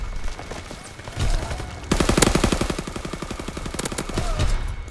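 A new SMG fires in Call of Duty WW2 gameplay, with a loud, rapid, continuous automatic burst that starts abruptly near two seconds. Quieter shots come before it, and there is no talk.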